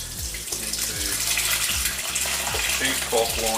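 Curds and whey from cow's milk feta-style cheese poured into a cheesecloth-lined colander, a steady close gush of splashing liquid running for several seconds, with a faint voice under it.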